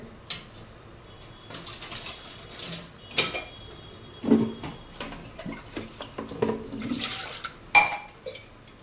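Water is poured and sloshed into a metal pressure cooker of dal, with scattered clinks and knocks of cookware in between quieter pauses.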